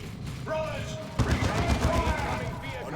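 Rapid bursts of gunfire and heavy weapon blasts from a Dawn of War II match, including Multi-Melta fire, a steady crackling barrage with a voice talking over it.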